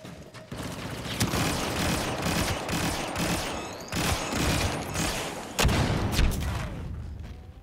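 Blaster fire in the game Star Wars Battlefront 2, loud rapid bursts of shots in close succession with short pauses between volleys and occasional sharper cracks.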